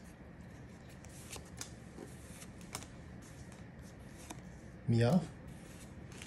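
Pokemon 151 trading cards being handled and flicked through while a pack is opened, soft papery shuffling under a quiet voice naming cards, with one louder rustling snap near the end.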